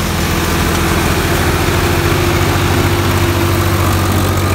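A tractor engine runs hard at about 1800 RPM to drive a cutter, a loud, steady, droning mechanical hum with constant vibration and no pauses, heard close and alone.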